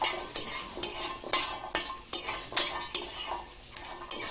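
Spoon scraping and clinking against a pan as silkworm pupa salad is stirred over low heat, about nine brisk, evenly spaced strokes, close and clear with no talking.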